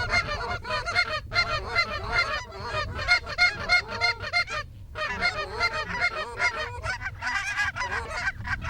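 A large flock of geese honks continuously and loudly over a pea field during a hunt, with dense overlapping calls rising and falling throughout and no talking.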